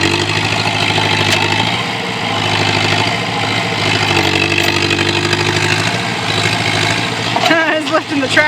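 A tractor engine runs steadily while the machine is lifted off the ground on a tree-clearing job, a loud continuous drone with a strain and brief metallic squeal near the end.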